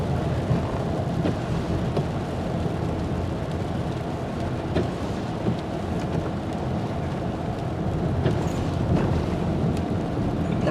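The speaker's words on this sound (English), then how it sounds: "The rain slacked up a lot here, but it was just a downpour earlier." Steady rain falls throughout, with a continuous broadband wash and faint low rumbles suggesting distant thunder, and no voices.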